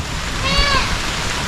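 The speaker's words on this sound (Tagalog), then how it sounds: "Ang ulan." Rain patters steadily in the background while a short, whining cat meow rises and falls over it midway.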